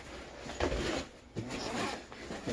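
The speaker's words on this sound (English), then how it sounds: "where's the zipper on this thing?" A double zipper on a guitar case is pulled open in several separate strokes, close and crisp, each scratchy zip followed by a short pause, with no speech.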